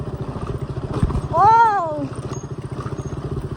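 A motorcycle engine drones steadily with a rough, bumpy rumble on a rough road in Nepal, and a short rising-and-falling horn-like tone sounds midway.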